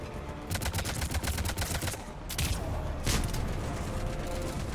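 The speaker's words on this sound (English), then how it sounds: "Flying and shooting." Rapid gunfire rattles in the game Mass Effect 3 during an airborne firefight, with fast repeated shots in dense bursts, a brief pause and then further sharp blasts over a steady rumble.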